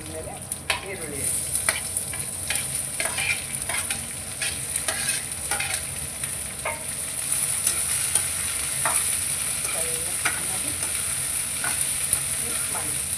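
Curry leaves and onion frying in a pan for a Kannada-style egg curry, with steady close sizzling under repeated scraping and stirring strokes, no talk.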